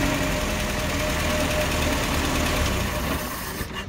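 A Bedford camper's engine idles nearby with a loud, steady, rough mechanical drone and a knocking vibration, then dips slightly near the end as if being switched off; no talking.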